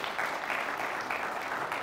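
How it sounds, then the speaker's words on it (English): A crowd applauds for the Belvidere North Blue Thunder team at a game, a brief continuous wash of clapping heard at a moderate distance. "How about a nice round of applause for them?"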